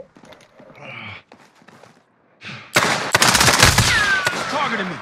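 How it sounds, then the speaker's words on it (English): Pistol shots in a multiplayer shooter video game, a close, loud string of sharp reports in quick succession after a quieter stretch. "Downed him with a pistol."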